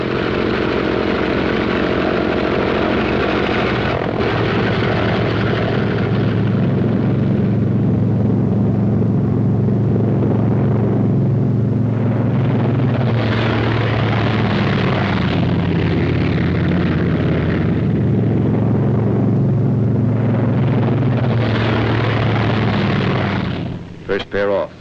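World War II P-47 Thunderbolt fighter planes take off in pairs, a loud, sustained piston-engine roar with rumbling swells that fills the whole stretch, while someone speaks over it at times.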